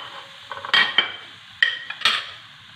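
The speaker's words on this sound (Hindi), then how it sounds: "ये मैं गोश्त इसमें डाल रही हूँ। फ्लेम ऑन कर लिया है मैंने।" Boneless mutton dropped into a pot over a lit flame for karahi, giving a few sharp metallic clinks and knocks of utensil against pan, spaced irregularly over a faint background.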